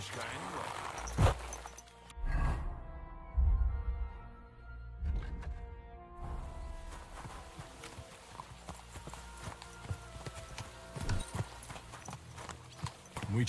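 Horse hooves clip-clop at a steady walking rhythm during riding in the medieval video game Kingdom Come Deliverance II, close and clear, running beneath character dialogue throughout.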